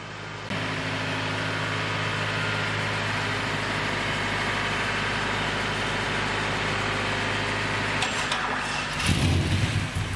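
A twin-turbo V8 Land Cruiser engine turns over and runs with a loud, steady low rumble and mechanical drone, close by, ending in a louder burst of noise and clatter.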